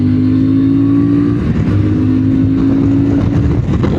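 CF Moto 450 MT motorcycle engine accelerating hard, a loud steady drone that holds a rising tone before roughening as the revs climb, heard close with no talk.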